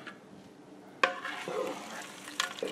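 Corn chips stirred into skillet enchiladas in a Ninja cooking system, with a sudden scrape and rustle as the spoon moves through, then steady sizzling and soft clatter close up, no talking.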